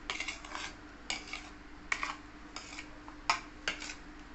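Chopped vegetables for a veg sandwich being mixed in a bowl, with a spoon clinking and scraping against the dish in irregular taps and rattles. The sound is close and fairly quiet, with no talk.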